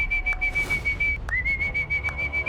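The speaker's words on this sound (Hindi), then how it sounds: "और वो सीटी बजा रहा है।" A person whistles a sustained, steady tone that dips briefly and then rises back to pitch, heard up close over a low background rumble with no talking.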